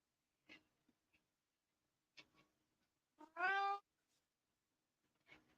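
A cat gives one clear, drawn-out meow amid a quiet room, with a few faint clicks and soft scuffs before and after it.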